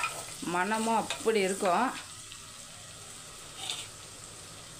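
Vadagam sizzles as it fries in a pan for a fish curry, a steady crackling hiss running under a woman's speech at the start and carrying on alone after she stops.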